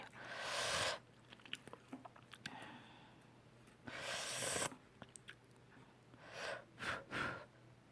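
Tteokbokki, Korean chewy rice cakes, is eaten up close, with wet chewing, soft slurps and heavy breaths that swell and fade in several bursts over a steady low hum.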